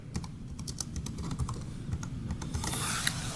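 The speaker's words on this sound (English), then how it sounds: "that was the test of the JLab Go wireless keyboard" Fast, continuous typing on a JLab Go wireless keyboard gives a dense patter of light plastic key clicks, close and fairly quiet, with no talking.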